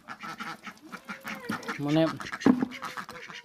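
Domestic ducks quack impatiently for feed, their close nasal calls overlapping with someone talking nearby.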